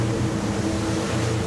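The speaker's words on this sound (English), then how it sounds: "Engine noise levels are so low in these motors." A Tesoro T50 inboard motorboat runs at cruising speed off Ibiza, its engines a low steady drone blended with hull and water rush, moderate and unbroken with no voices.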